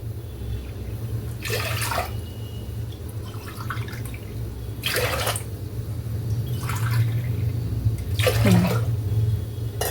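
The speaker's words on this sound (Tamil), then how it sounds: "1 கிளாஸ் ஊற்றியாச்சு, இன்னும் 3 கிளாஸ் விடணும்." Water poured from a glass into a cooking pot for ven pongal, three separate splashing pours a few seconds apart over a steady low kitchen hum.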